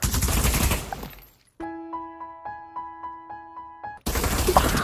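Rapid bursts of gunfire in the VR shooter Pavlov, loud and close, with a tonal ringing pulse repeating in an even rhythm between dense noisy stretches at the start and end.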